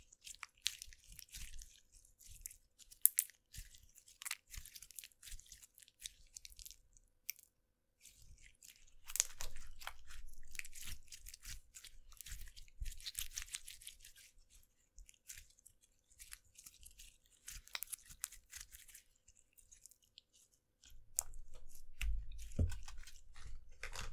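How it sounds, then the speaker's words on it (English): Soft, wet popping and crackling from purple slime being squeezed and pressed, faint and close, in irregular bursts with brief quiet gaps. "The purple slime does provide some pretty good popping noises."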